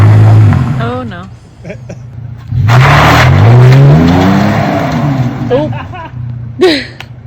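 A car engine revs repeatedly while the vehicle sits stuck in snow in the Eastern Sierra, the engine surging loud and close before falling back, with people talking between the revs.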